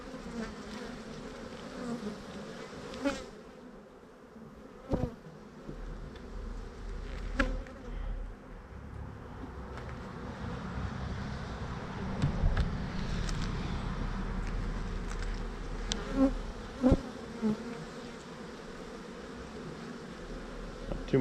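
Honeybees drone steadily around a hive frame in an outdoor beeyard, a soft continuous hum with individual bees buzzing past closer now and then, and a faint low rumble underneath.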